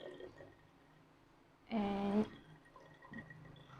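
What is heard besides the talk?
pouring water into a bottle of oil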